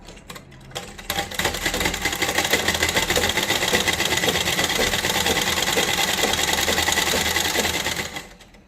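Close up, a sewing machine stitches a straight seam on a blouse, its needle clattering in a fast, even rhythm that runs continuously for about seven seconds after a brief start-up, then stops.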